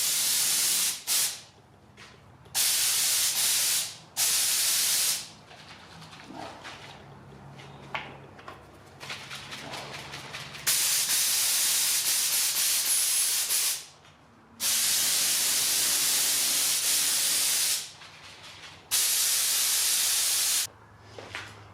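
Spray gun bursts of thinned paint onto a Ford ZF Fairlane during restoration, the mix stiff and spraying dry; loud, close hissing blasts of a few seconds each, repeated with short pauses between.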